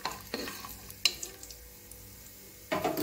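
Whole fennel seeds, cardamom and cloves stirred in a pan for tomato rice, heard as faint, sparse scrapes and small clicks over a quiet sizzle, with a sharper stirring burst near the end.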